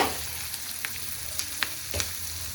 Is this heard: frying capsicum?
yes